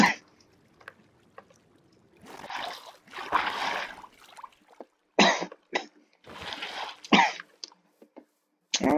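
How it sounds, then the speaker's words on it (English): Several short, sharp coughs and throat-clearing bursts, some loud and close, broken by pauses, with a faint steady hum underneath while playing a hardcore Minecraft-style game. "Sorry about my cough, guys."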